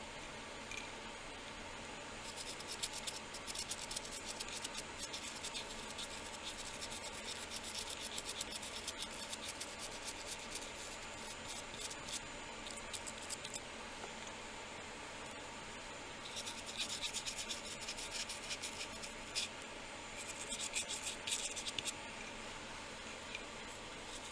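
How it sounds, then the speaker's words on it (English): A scrubby brush scrubbing over a polymer clay moon locket: faint, steady scratchy brushing that continues throughout, with denser bursts of bristle scraping in places. "And this is a scrubbier brush."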